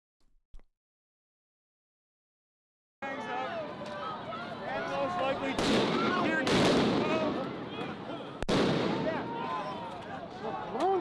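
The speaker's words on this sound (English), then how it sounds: "there's flashbangs" Flashbang grenades going off at a street rally, a few sharp loud bangs cutting through a noisy crowd with shouting voices and people talking close by.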